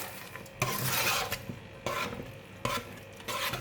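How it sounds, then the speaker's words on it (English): Shredded ginger stirred into chicken and scallop congee, with three or four broad scraping sweeps of a spoon through thick porridge, each separated by quieter pauses, close and moderately soft. "This is about 1 tablespoon of shredded ginger. I'm going to give it a stir."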